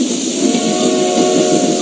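A train rolls along the rails in a steady, dense rumble, with faint sustained tonal squealing over it and no voices.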